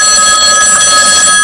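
A telephone rings steadily for an incoming call on a call-in radio show, a loud electronic bell tone that holds throughout without pause and with no talk.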